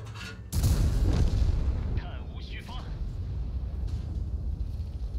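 A heavy tank cannon booms once in World of Tanks, a WZ-111G FT tank destroyer battle, loud and sudden, then a long rumbling tail of engine and battle noise with a voice talking over it.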